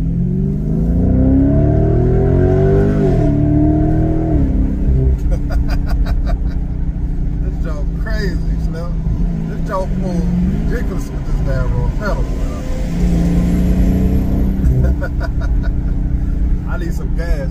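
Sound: Dodge Charger Scat Pack engine revving

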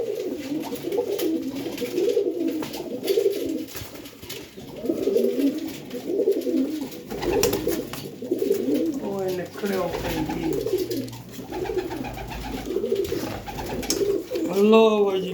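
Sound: pigeons cooing

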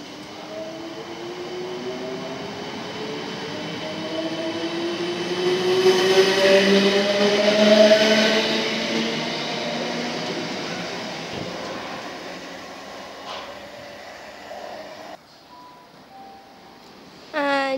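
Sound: South Western Railway train departing New Malden station

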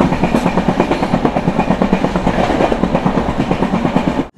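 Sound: Kochuveli–Bhavnagar Express sleeper train running on rails

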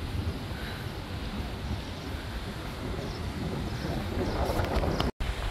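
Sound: wind blowing outdoors in Dubai

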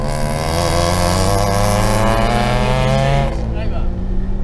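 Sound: rally cars racing on Bolulla-Tárbena hill climb road

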